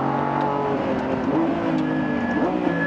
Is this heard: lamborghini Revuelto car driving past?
yes